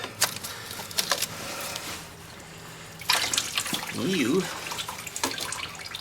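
Engine oil dribbles out of a 110 TLB tractor backhoe during its 1600-hour oil change, making an intermittent trickle of drips with a few handling clanks and a brief low whine amid quiet background noise.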